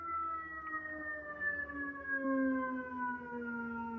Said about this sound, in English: all these sirens could be a sign as well